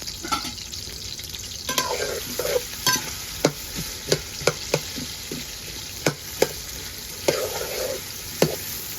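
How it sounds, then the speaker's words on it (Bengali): Onion and garlic hit hot oil in a pan, giving a continuous crackling sizzle broken by sharp spoon-against-pan clinks and stirring knocks at irregular intervals, close and without talk. "তেলটাও গরম হয়ে গেছে আমি এখন পেঁয়াজ আর রসুন দিয়ে দিব"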